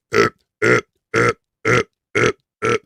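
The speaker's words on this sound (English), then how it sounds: "just the passive aggressive bullshit burps right here." Six loud, close burps in a steady rhythm, each about a quarter second long and spaced roughly half a second apart, with silence between them and no talking.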